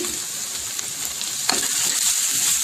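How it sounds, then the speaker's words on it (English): Onions frying in a pan with garlic, ginger chili paste and hing, a steady close sizzle with a brief scrape of stirring midway. "We are going to add onion and give it a stir."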